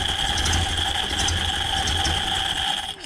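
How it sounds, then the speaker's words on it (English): A Ford Model A barn-find engine idles steadily nearby, a low even rumble with a faint whine on top, running without a break until it dips right at the end. "See if we can fine-tune that adjustment while it's idling here"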